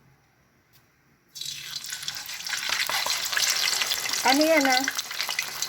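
Tilapia hits hot cooking oil with a sudden loud, crackling sizzle that bursts in after a quiet moment and keeps spitting steadily, with a brief voice and faint clatter over it.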